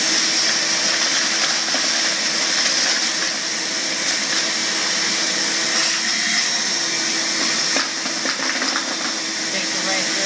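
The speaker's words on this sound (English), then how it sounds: "What I'm gonna do now is just show you sucking up a little bit of bolts here." A RIDGID WD4070 4-gallon, 5-horsepower wet/dry shop vac runs with a steady, loud, broadband whine while sucking up bolts, with faint rattles and clicks of the hardware passing through the hose.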